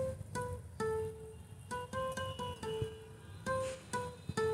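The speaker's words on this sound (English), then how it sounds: "slightly mute the string that I'm playing" Acoustic guitar picking a theme melody with slightly palm-muted strings, a string of short damped plucked notes in an uneven melodic rhythm, close and clear with no voice.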